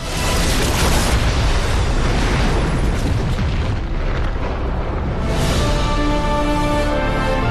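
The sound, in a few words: bomb exploding in a building, film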